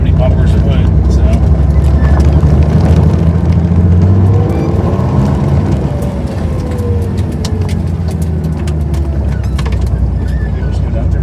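A Porsche 911 with no bumpers or hood crawls through a yard in first gear, its engine a steady low rumble throughout, with a voice talking over it.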